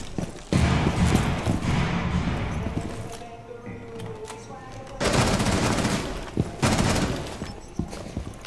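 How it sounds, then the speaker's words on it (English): Rainbow Six Siege cluster charge going off: a series of loud, close blasts and crackling bursts in two heavy clusters, separated by a quieter stretch of rumble. "Detonating cluster charge."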